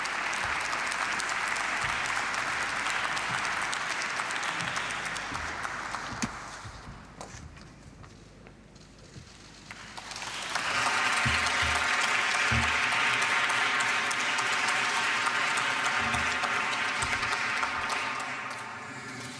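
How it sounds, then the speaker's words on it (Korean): Audience at a Körber Foundation event in Germany applauding to welcome President Moon Jae-in, a long, full wave of clapping that dips briefly in the middle, then swells again and continues steadily, with some music-like tones underneath. "문재인 대통령님을 박수로 맞아주시기 바랍니다."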